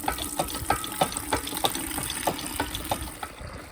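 Apple and pear juice running from a hand-operated juice press, a steady watery trickle with repeated ratcheting clicks from the press mechanism at a regular rhythm, close and moderately loud.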